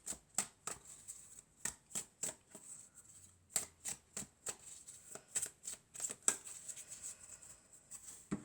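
Oracle cards are shuffled by hand in quick, crisp riffling bursts, about two or three per second, close and fairly soft with no voices.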